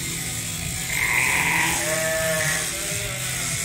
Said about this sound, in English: What are all these sheep doing?